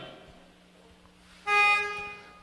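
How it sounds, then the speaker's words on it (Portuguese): A car horn honks once at a car auction, a short loud toot that comes in over quiet background murmur and low engine noise. "Tem buzina, tem."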